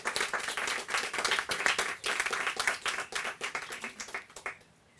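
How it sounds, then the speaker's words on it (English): Audience at a county executive's funding announcement breaks into steady applause, many hands clapping densely for several seconds before fading out. "Please give them a big round of applause."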